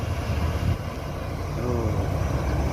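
Steady low rumble of a PALALA tour bus departing for Motegi, a continuous engine drone with road noise that holds at an even level throughout, with no talking.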